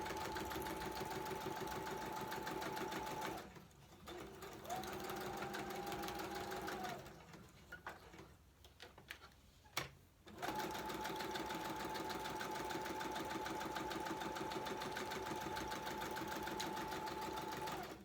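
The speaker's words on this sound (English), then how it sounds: "I just run a straight stitch around this" A sewing machine runs a straight stitch around a file folder piece, a steady mechanical whir that pauses twice briefly partway through before resuming evenly to the end, with no talk.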